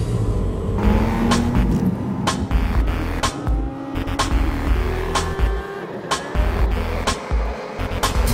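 A car heads out of town across a bridge, its steady engine hum and road rumble filling the cabin with a continuous throbbing drone, with brief clicks and music-like tones layered over it.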